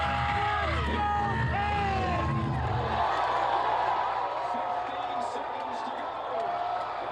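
Jubilant hockey fans celebrate a Carolina Hurricanes Game 5 playoff win, with a dense crowd roar, whoops and cheers layered over excited voices, swelling loud at first, then easing into a steadier, broad wash of crowd noise.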